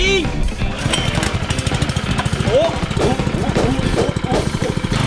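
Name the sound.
engine of water pump for a large sprinkler running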